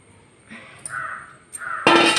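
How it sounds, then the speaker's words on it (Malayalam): Crows caw a few times, first faint and then louder and closer, with a sharp burst near the end. "നമ്മുടെ കാക്കച്ചിമാർ ഉണ്ടാക്കാൻ വന്നു കേട്ടോ"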